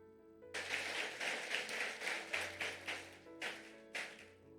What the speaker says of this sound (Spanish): Den el aplauso al Señor por eso.